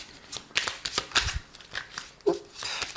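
Tarot cards being shuffled by hand for a draw, giving a series of soft riffling and slapping bursts at close range, irregular in rhythm, with no talk.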